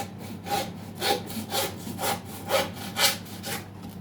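A saw cuts through a sheep's brisket during butchering, a rhythmic rasping of about eight back-and-forth strokes, close and distinct, each stroke swelling and fading with no talking over it.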